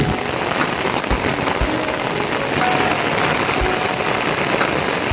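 Heavy rain pours down in a village, a loud, steady, dense hiss of drops drumming on surfaces with no voices heard.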